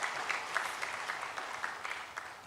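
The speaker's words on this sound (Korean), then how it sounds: "박수 한번 보내주시기 바랍니다." Congregation applauding the choir during a Sunday church service, a steady wash of many hands clapping at moderate volume throughout, with a sharper clap near the end.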